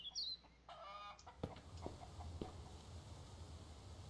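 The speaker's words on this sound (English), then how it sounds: "Chicken." Chicken clucking in the survival video game Mist Survival: a few soft, short clucks and a brief squawk, fairly faint over a low ambient background, with no talk.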